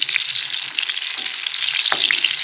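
Eggplant slices frying in oil in a pan, a steady close sizzle with a couple of brief scraping knocks as the pieces are moved.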